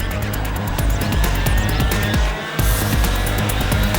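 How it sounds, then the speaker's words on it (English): Racing karts with 100cc rotary valve engines scream loudly at high revs, their buzzing engine notes overlapping continuously as the pack passes, with a brief dip before the roar resumes. "all powered by 100cc rotary valve engines that are almost as quick as their Formula Libre teammates"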